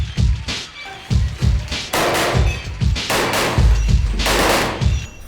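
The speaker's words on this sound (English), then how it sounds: "Flurry of gunshots." A flurry of gunshots rings out in rapid, uneven bursts of sharp cracks and thuds, some spaced and some overlapping into fusillades, fairly close and echoing, with no talk.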